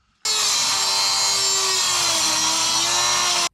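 A Dremel fitted with a metal cutting bit grinds steadily through a bolt on a BMW E46 wagon, a loud continuous high-pitched whine that starts abruptly, holds with a slight pitch drift and stops sharply, heard up close with no voices.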